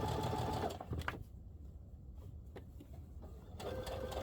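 Sewing machine stitching a half-inch seam around a curve on a zippered fabric project bag, a steady close mechanical whir that runs, stops with a few clicks for about three seconds, then starts running again.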